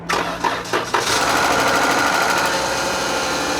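A Jeep Pentastar 3.6-liter V6 fires up with a few sharp cranking bursts, then settles into a close, steady idle with a fast, even mechanical ticking from the valvetrain.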